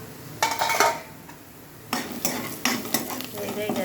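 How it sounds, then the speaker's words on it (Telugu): Capsicum curry sizzles in a pan while a spoon stirs it, giving a brief burst of scraping, then a pause before several more stirring strokes over a soft frying hiss. "బ్రౌన్ కలర్ వచ్చే వరకు వేగనివ్వండి."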